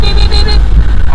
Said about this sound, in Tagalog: Nabusinahan ka tuloy.